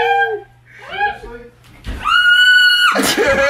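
A shrill, drawn-out animal scream rings out twice, loud and close, with brief vocal sounds in between.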